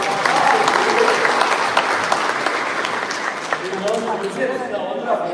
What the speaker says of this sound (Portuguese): Uma salva de palmas pelo diaconato.